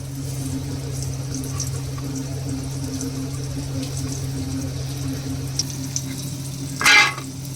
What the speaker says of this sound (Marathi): मॅरिनेट केलेला आणि रव्यात आणि तांदळाच्या पिठातला मासा आपण तव्यावर ठेवलाय।